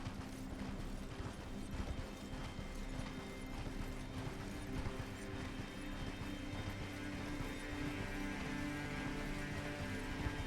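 Horse hooves clopping rapidly in Elden Ring, a faint, steady rhythmic beat running throughout under layered game ambience and mechanical whirring, with no talking.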